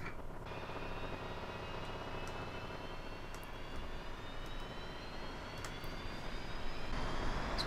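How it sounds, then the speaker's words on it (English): Twin jet engines of a Su-25T attack aircraft spooling up in a flight simulator, a faint steady turbine whine rising slowly in pitch over a low rumbling hum. "Let's fire the engines back up."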